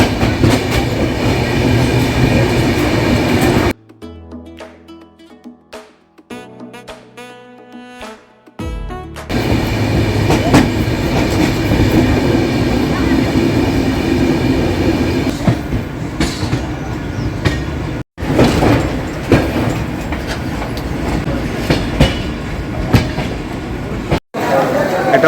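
A train runs from Siliguri Junction to Sealdah, heard from inside an economy coach as a loud, steady rumble with wheel clatter, broken by a short quieter stretch and occasional voices.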